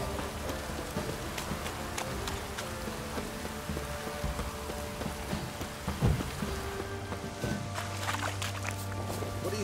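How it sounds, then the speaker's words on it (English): Steady drizzly rain in The Witcher 3 video game, falling and pattering on surfaces, a constant soft hiss with scattered drips, and a low hum entering near the end. "Oh, it's drizzly."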